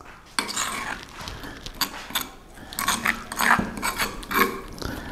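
Beef being tossed with seasoning and oil in a metal pan, giving a series of scraping, clattering utensil strokes against the pan, close and moderately loud, with no talking.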